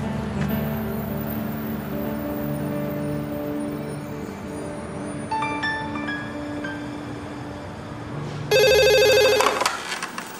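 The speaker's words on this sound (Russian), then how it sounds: "Алло, Алексей Викторович" A telephone rings in electronic, tonal chimes that swell into a loud, bright ringtone near the end over a low background hum.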